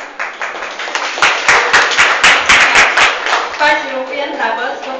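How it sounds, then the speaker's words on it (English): Classmates clap their hands for a presenter in a classroom, giving a burst of sustained, uneven applause from several people that fades near the end as a voice begins talking. "So please clap your hand to her."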